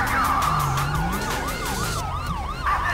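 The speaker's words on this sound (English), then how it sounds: "finally, we got a dual siren on this car." A police car in GTA V runs a dual siren, two overlapping tones, one steady wail and one rapid yelp, sweeping up and down together, loud and close over a low engine hum.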